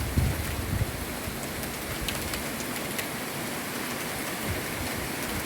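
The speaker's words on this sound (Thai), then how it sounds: "ฝนตกทางทะเลนะคะ มาทางทะเลฝนจะตก" Steady, dense heavy rain over the sea at Pattaya hisses throughout, a constant wash of drops with a low rumble underneath and no voices.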